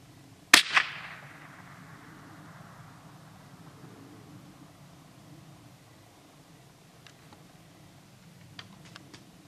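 A single sharp crack from a .22 LR rifle fired outdoors, followed by a long rolling echo that fades over several seconds, then a few faint ticks, with no talking.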